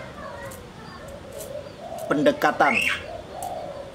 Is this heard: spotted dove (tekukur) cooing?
yes